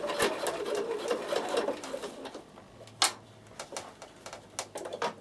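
A Bernina sewing machine stitches along a fabric fold while making a toiletry bag, giving a faint, uneven run of soft mechanical whirring punctuated by sharper ticks and clicks, close and quiet with no talk.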